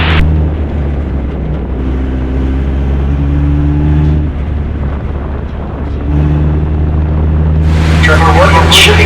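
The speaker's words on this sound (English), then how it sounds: "with a green car is coming behind me." Single-seater club race cars at Mid-Ohio, a loud, steady engine drone with a tonal whine that shifts and climbs as a car closes in and passes, ending in a bright, harsh roar near the close.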